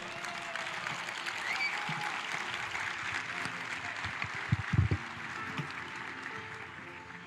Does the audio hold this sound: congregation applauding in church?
yes